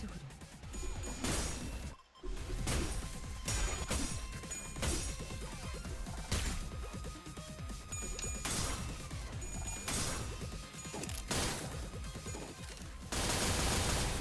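Video game gunfire rattles in rapid bursts with crashing impacts, loud and dense, broken by brief pauses and a sharp whoosh across the stretch.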